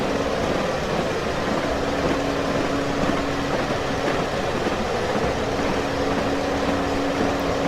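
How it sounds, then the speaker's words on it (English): Class 101 diesel multiple unit running on rails between Norwich and Yarmouth in Train Simulator, a steady dense rumble of wheels and engine with a constant low hum, continuous and close throughout. "I think this sound of the rail on the original Norfolk Wherrys"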